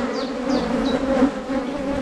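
Honeybees droning loudly and steadily from an open hive colony, close by, with a few faint high chirps over the hum.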